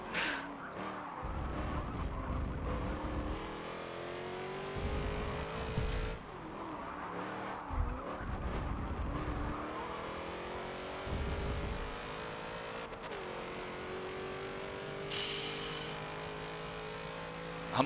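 A very light A-class race car in Forza Motorsport 7 drives continuously through a racing lobby, its engine whining and shifting pitch as it revs through gears, with brief tire scrubbing and other cars faintly around.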